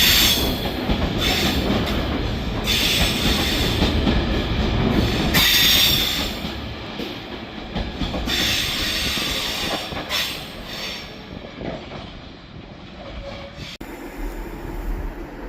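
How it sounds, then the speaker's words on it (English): A ballast train carrying sand and ballast rolls past at a railway yard, with loud rumbling wagons, repeated high wheel squeals and hiss rising and fading over a long steady pass. "And it's carrying ballast train,"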